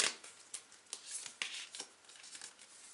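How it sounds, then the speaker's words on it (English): A deck of tarot cards is shuffled softly and close by, giving a run of quick papery slides and flicks in uneven bursts, faint overall, with no voices. "and I'm going to shuffle more, make 2 more cards."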